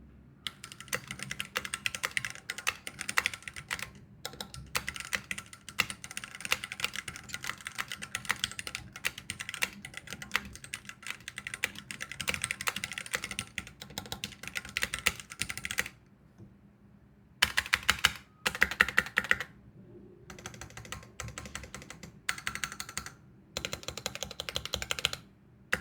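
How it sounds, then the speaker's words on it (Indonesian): Steady typing on a Keychron Q1 QMK mechanical keyboard fitted with Gateron Phantom Red switches, a rapid run of close, crisp keystrokes with a couple of brief pauses and no talking. "sekarang kita dengar karakter suara dari Keychron Key1 KMK yang varian Gateron Phantom Red ini"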